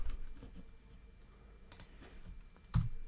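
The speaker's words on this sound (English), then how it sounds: "Hold the Alt key down, select the two rows, and then I can type in" Faint, sparse computer keyboard key presses and mouse clicks, a few isolated taps with one louder click near the end, over quiet room background.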